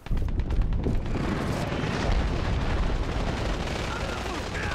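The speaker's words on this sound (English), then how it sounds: "Oh, I just concussion grenade myself." A concussion grenade going off in the Dirty Bomb shooter at a train yard, a loud sustained blast and rumble filling the whole stretch amid ongoing gunfire and game noise, with voices talking over it.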